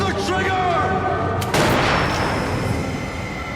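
A single loud gunshot in a movie scene cracks out partway through and is followed by a rumbling, smoky roar that trails off across the rest of the moment, over earlier background music.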